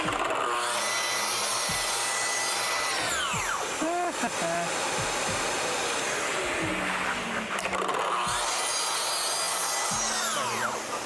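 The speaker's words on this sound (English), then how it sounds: "We'll see if the track saw cut here is any difference in sound now that we've applied the compressor." A track saw cuts through wood in the shop with a loud, continuous whirring rasp under a shifting motor whine. The cut swells and eases throughout, with no pauses.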